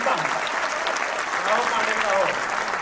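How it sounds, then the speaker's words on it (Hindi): A hall audience at a kavi sammelan (poetry gathering) claps loudly and continuously, with scattered voices and cheers rising through the applause. "एक बार जोरदार तालियां बजाइए।"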